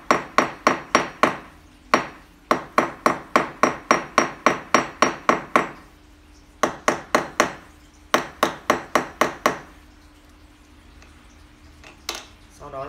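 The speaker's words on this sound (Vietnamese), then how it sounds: "Khi đóng các bạn đóng đều búa và không đóng vào cái phần súng cao su." Hammer strikes driving mosaic pins into a slingshot's handle scales, sharp close taps in quick even bursts of roughly eight to fourteen blows separated by short pauses, with a single louder hit near the end.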